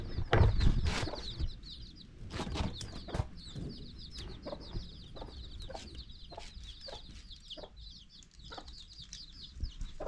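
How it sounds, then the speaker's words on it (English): Chickens cluck and squawk around a homestead yard, several birds close by with irregular bursts and sharp calls, louder at first and then settling into ongoing chatter, with a few wing flaps. "Lot of chicken here."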